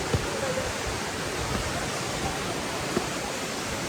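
Ramaroshan waterfall in Achham, Nepal, pours as a steady, dense roar of falling water, close and unbroken, with a couple of faint brief knocks.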